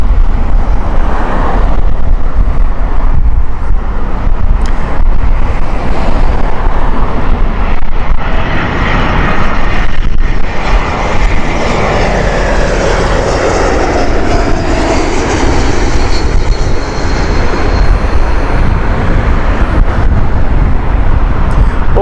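A nearly new Air France Airbus A220-300 jet roars loudly and continuously at Heathrow, a broad steady engine rumble with wind buffeting the microphone throughout and no voices.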